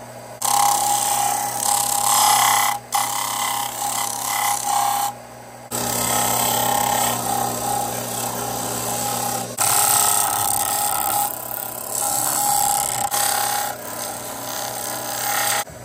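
A machete blade being worked against sandpaper, a close, steady rasping scrape in long strokes broken by brief pauses, loud and alone without talk.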